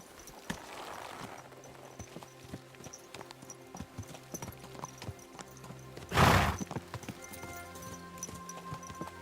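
Hooves clip-clop at a walking pace in Kingdom Come: Deliverance II, with a horse whinnying and a loud burst near the middle.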